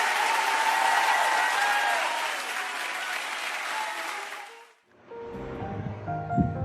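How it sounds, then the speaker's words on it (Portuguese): A church congregation at a Baptist Sunday school gathering claps in a dense, sustained wash of applause that fades out after about five seconds, and then a voice begins speaking. "Aplauda o Senhor aí, gente!"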